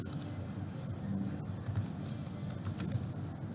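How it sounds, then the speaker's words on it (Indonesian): Quiet, steady keystrokes on a computer keyboard while entering a Cisco switch configuration, soft irregular clicks running throughout with no talking. "Saya ketik di sini welcome"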